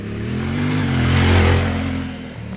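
A CFMoto Ibex 450 MT parallel-twin motorcycle revs its throttle, a smooth, steady engine note that climbs and then settles back. It sounds close and loud, with no voices.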